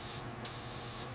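A spray gun lays clear coat over dark navy paint on a 1930 Ford Model A, giving a steady, close, loud hiss of atomized spray with brief pauses in the high hiss.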